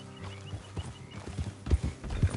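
Horse hooves clip-clop at a gallop in Red Dead Redemption 2, a rhythmic run of close, thudding strikes that grows louder toward the end, with a faint whinny mixed in.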